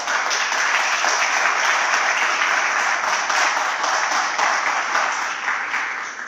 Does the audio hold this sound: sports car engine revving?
no